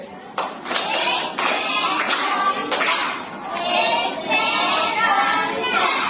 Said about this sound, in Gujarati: તમારે પછી તાળી અને ચપટી વગાડવાની છે